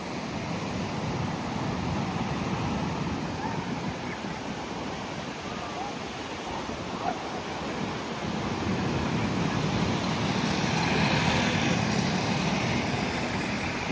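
Sea waves at Chandrabhaga beach near Konark make a steady, broadband surf roar that swells slightly toward the end and runs continuously without a break.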